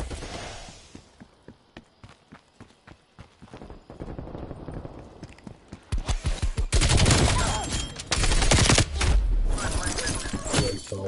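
Rapid bursts of gunfire in Call of Duty Black Ops, close and loud, with rhythmic single shots building into dense, heavier volleys toward the end.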